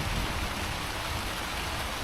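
Steady, heavy rain hisses continuously on a tarp, an even dense patter with no pauses.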